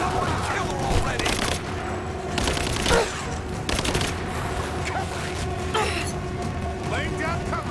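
Covering gunfire in Rise of the Tomb Raider: bursts of automatic shots and scattered single cracks, loud and close, amid combat clatter with voices shouting over the fire.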